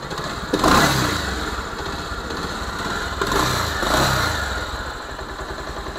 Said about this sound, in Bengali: এখন বাইকের সাউন্ডটা শোনাবো।